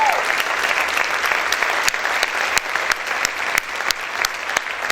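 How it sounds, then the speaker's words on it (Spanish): A church congregation claps loudly and steadily in a reverberant hall, with a dense wash of applause marked by sharp individual claps throughout. "Aplaude fuerte al Señor"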